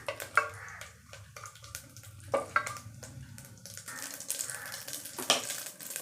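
Ingredients for a raw mango dish fry in a pan, a light crackling sizzle broken by frequent spoon scrapes and knocks against the pan, close and moderately loud with no talking.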